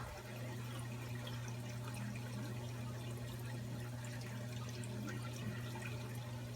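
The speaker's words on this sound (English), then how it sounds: "The water is now filling back up in the original sump." Water steadily running and filling an aquarium sump, a constant low rushing with a faint hum underneath, even and unbroken throughout.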